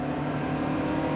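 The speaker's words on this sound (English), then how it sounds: "There's a fair bit of period turbo lag," Period turbocharged car engine held at a steady, loud, droning note, a brief continuous tone with no voices.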